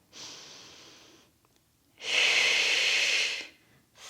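Forceful breaths during a floor exercise pressing a book with the leg: a softer exhale, a pause, then a longer, louder rushing exhale through the mouth, close and alone.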